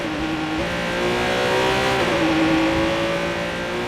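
A sports car engine revs steadily while driving in Watch Dogs 2, a loud, continuous motor drone with rising and falling pitch and no talk over it.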